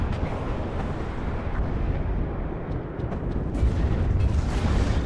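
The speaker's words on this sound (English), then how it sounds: "3 ATGMs are about to go off though." Anti-tank guided missiles firing and blowing up in the WARNO real-time strategy game, a dense rumbling wall of booms and blasts with sharp crackling bursts near the end, loud and continuous.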